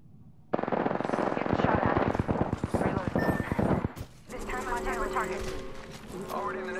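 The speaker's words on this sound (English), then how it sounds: "Opening fire on the enemy." Rapid automatic gunfire from Apex Legends weapons rattles loudly in a fast, even burst for about three seconds, then gives way to game effects and a voice speaking over the quieter tail.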